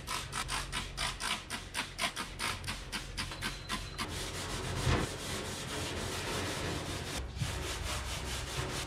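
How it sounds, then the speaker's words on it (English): Rhythmic hand scrubbing of surface rust off a metal surface, a quick run of close, regular rasping strokes that then settles into a steady continuous rubbing with no talk. "So with a little bit of scrubbing,"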